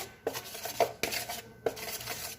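Crêpe batter ingredients with powdered sugar whisked in a bowl, giving three sharp utensil knocks against the bowl rim, each followed by a short scraping swirl, close and fairly quiet.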